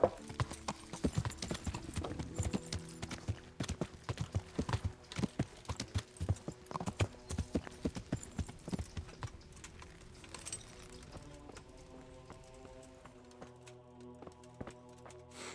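A horse clip-clops in Kingdom Come: Deliverance, the game set in medieval Bohemia, with steady hoofbeats and jingling tack close by. The hoofbeats fade out near the end, and a sustained tonal sound comes in.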